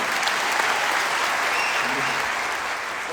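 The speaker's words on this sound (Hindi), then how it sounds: "बहुत बहुत जोरदार ताली होनी चाहिए" An audience at a Vestige training seminar applauds steadily, a dense, even wash of many hands clapping for a few seconds without a break.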